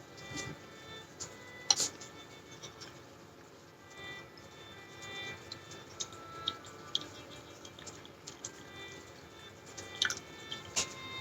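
Water poured over pu'er tea leaves to rinse them, soft trickling and drips under scattered small clinks of teaware, quiet and close.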